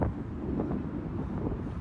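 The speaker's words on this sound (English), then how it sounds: "It's windy because there is a storm system coming in for tomorrow" Strong wind ahead of an incoming storm buffets the microphone on a New York City bridge, a continuous low rumbling roar with gusty fluctuations and no voices.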